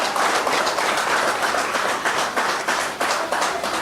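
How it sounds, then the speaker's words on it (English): Dinner guests at a celebration for the PtroJazz basketball team give a round of applause for the team's technical director: continuous, dense clapping from a crowd, steady and fairly loud throughout with no talk over it. "A round of applause"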